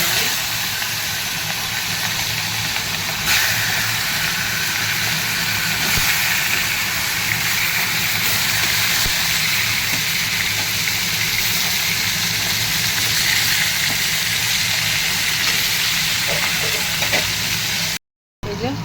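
Hilsa fish heads frying in hot oil give a steady, close broadband sizzle that runs almost unbroken, with a low rumble underneath, then stops briefly just before the end.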